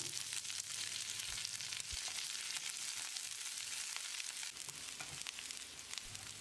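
Steady, crackling sizzle of shallots and curry leaves frying in hot oil for paneer gravy, continuous and close, with a few small pops and no talking.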